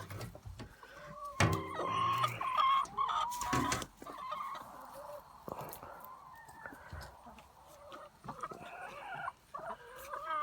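Backyard chickens clucking and squawking in a garden at the end of the season, with several nearby bursts and steady background clucks, fairly quiet overall.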